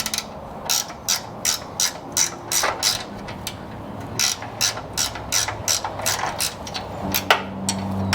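A hand ratchet wrench turns a bolt during a custom sway bar install on a 1960–66 Chevrolet C10 pickup, giving a steady run of quick, close metallic clicks in repeated bursts with no talking.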